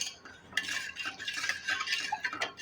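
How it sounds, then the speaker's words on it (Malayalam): A spoon stirs salt through pepper rasam in a pot, giving steady scraping and clinking of metal against the vessel, close and moderately loud, with no talking. "ഇത് നന്നായിട്ട് നമ്മൾ മിക്സ് ചെയ്തിട്ടുണ്ട്."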